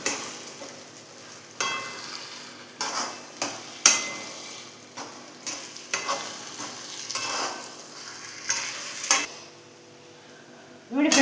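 Repeated scraping and knocking strokes from rice dough being worked in a pan by hand until it can be shaped into balls, with soft sizzling between strokes and a louder clatter at the end.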